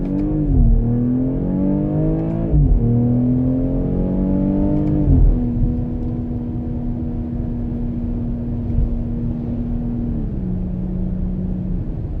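A BMW X3 M40i engine accelerating hard on a snowy road, revving up through the gears with sharp drops at each upshift, then settling into a steady cruising drone. It is loud and close, with no talk.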